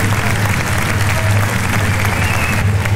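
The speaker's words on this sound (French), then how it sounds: "Applaudissements pour Madame Natalina Lupino" An audience at a judo club event in Bresles applauds for judoka Natalina Lupino, a loud, sustained wash of clapping from a crowd, with a low hum underneath.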